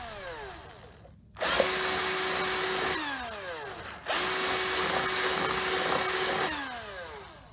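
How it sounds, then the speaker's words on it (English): A power drill with a brand-new 5/16 inch bit bores holes for lights on a model railroad layout, whining loudly and close in two long sustained runs separated by a short pause. "Using my brand new 5/16 inch bit,"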